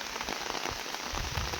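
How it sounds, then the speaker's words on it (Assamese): Steady rain pours outdoors at night in a rural Assamese setting, a dense continuous hiss of drops on surfaces, close and even throughout with no voices. "এইফালে বৰষুণ পৰি আছে চাওক"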